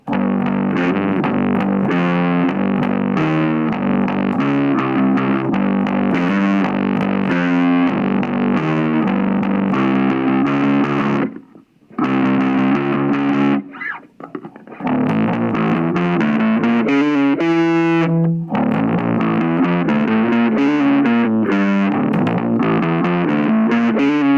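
A loud, fuzzy, heavily distorted bass tone from a Laney Mini-Bass-NX combo amplifier plays a driving riff, with a brief break in the middle. No voices are heard.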